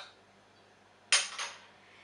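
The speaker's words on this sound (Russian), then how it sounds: "перемешаю все ингредиенты в миске с салатом" A utensil clinks against a bowl while squid salad ingredients are stirred, two quick bright scrapes and taps close by in an otherwise quiet room.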